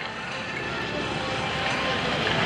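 A modified North American SNJ Texan warbird, fitted with a single-seat canopy and cockpit to resemble a fighter, flies at a Blue Angels homecoming airshow, giving a steady, loud, broadband engine roar that holds throughout.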